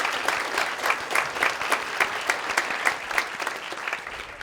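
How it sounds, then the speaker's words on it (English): A room full of people claps steadily at a dental hygiene pinning ceremony, a dense, even round of applause that holds at a moderate level throughout, with no voices standing out. "Let's give them a round of applause."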